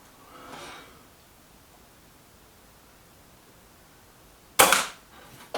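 A Kral NP-03 air rifle fires a JSB Match Diablo pellet, making one sharp, close crack followed by a brief hiss. A softer puff comes earlier, in an otherwise quiet setting.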